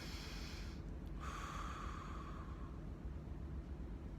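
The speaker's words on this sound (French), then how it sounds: "Alors, une respiration." A single audible breath drawn during a group meditation session in Bangkok, rising briefly over a steady low room rumble and then fading, with no voices.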